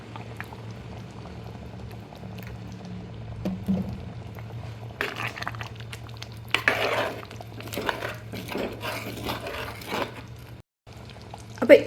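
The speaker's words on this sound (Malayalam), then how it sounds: "ഇനി ഇതിലേക്ക് കുറച്ച് പച്ച വെളിച്ചെണ്ണ ഒഴിച്ചു കൊടുക്കാം." Bubbling simmer of a Kerala-style drumstick, cucumber and shrimp curry in a pot as raw coconut oil is poured in, a steady low bubbling with brief stirring and pot noises, no talk.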